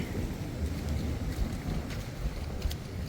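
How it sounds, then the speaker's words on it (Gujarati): Rough sea roaring under strong wind during heavy rain on the Gujarat coast, a loud, continuous low rumble with wind buffeting the microphone and brief crashing surges. "દરિયાની બઘડાટી"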